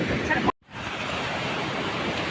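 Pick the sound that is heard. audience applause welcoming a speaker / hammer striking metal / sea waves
sea waves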